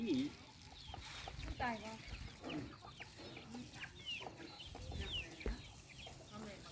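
Chickens cluck and chatter repeatedly in a rural Thai farmyard setting, several birds close by, with a rooster-like call now and then and faint voices in the background.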